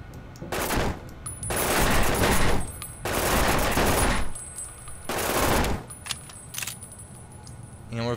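A Biohazard Corp Nail Carbine firing in Fallout, several sustained loud bursts of rapid metallic shots separated by short pauses, with jangling mechanical rattles between them.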